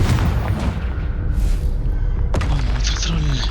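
Confringo explosion spell in the Hogwarts Legacy video game, a loud booming blast with heavy rumbling thuds and a sharp crack near the end, close and dense throughout.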